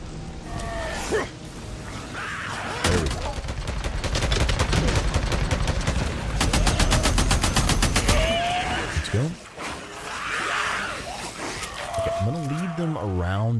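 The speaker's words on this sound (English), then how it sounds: "I'm going to put a smoke bomb on them and then open fire." Gunfire in the video game Days Gone during a fight against a horde, with dense rapid bursts of shots, whooshes and creature cries, while someone talks over much of it.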